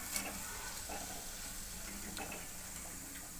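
Cauliflower 65 frying in peanut oil, giving a close, steady crackling sizzle with faint ticks and pops throughout, no voices.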